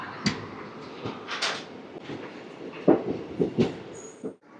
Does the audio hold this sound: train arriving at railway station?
yes